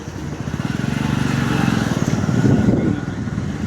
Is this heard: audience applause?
no